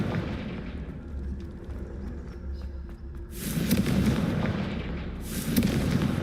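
A Confringo spell explosion in Hogwarts Legacy, starting as a low rumbling build and breaking into a loud, broad blast that swells twice in quick succession.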